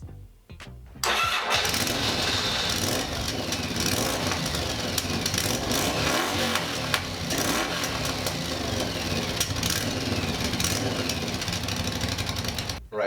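Yamaha XV750 custom motorcycle with a MIG-welded exhaust starts up after a brief click, then idles loud and close with a steady, throbbing exhaust rumble for the rest of the clip, no talking.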